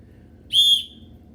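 One short, shrill blast from a survival whistle, loud and close, rising from quiet background and cutting off after about a quarter second.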